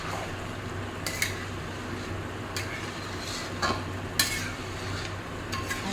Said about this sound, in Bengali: নারকেলের দুধটা যাতে সমস্ত মটনের সঙ্গে মিশে যায়, ভালোভাবে নামিয়ে দিতে হবে।